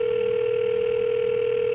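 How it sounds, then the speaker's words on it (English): A telephone line tone on a call to the police department, one steady, unbroken tone held at a constant level throughout, with no voices. "Ringing the police department."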